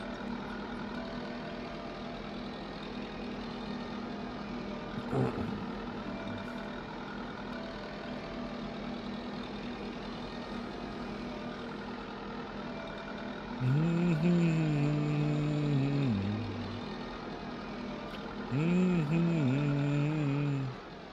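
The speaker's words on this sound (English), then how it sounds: "Tiny little tractor pulling this fucking cedar behind it." A tiny tractor in a video game drags a cedar log, its engine droning steadily and heavily throughout, with repeated electronic beeping tones cutting in twice near the end.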